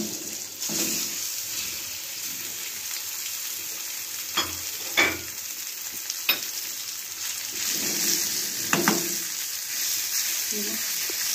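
Chicken pieces frying in a pan while white sauce pasta is cooked, a steady broadband sizzle with occasional sharper stirring clicks and scrapes, close and continuous with no talk.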